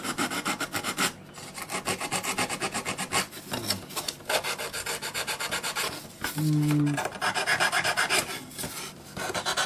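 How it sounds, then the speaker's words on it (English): Steady, rhythmic rasping strokes of sandpaper working over the surfaces of a Freewing L-39 model jet battery cartridge, close and continuous with one brief pause midway. "Good idea to also sand this surface, these surfaces"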